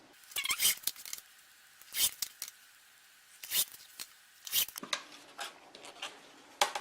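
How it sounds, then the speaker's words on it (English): Scissors cut lengthwise-grain fabric strips for a quilt border, giving faint, close, intermittent crisp snips and slides with quiet gaps and light handling rustle between them. "And I'm going to cut 4 strips for the border."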